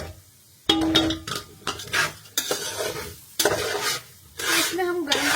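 Food being pan-roasted and stirred with a utensil in a pan, giving repeated scraping, clinking strokes over a soft sizzle, close and fairly loud in bursts with short pauses between.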